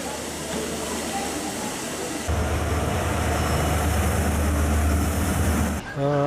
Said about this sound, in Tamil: காங்கேசன்துறையிலிருந்து யாழ்தேவி யாழ்ப்பாணம் ரயில் நிலையத்தை இன்று காலை 10:57க்கு வந்தடைந்தது